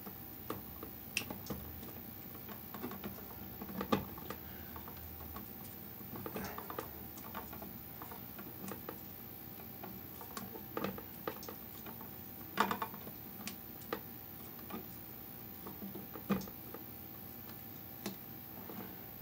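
Electrical tape being wrapped around wire nuts on outlet wiring with several wires, heard as faint, irregular crackly ticks and clicks scattered over about nineteen seconds in a quiet room.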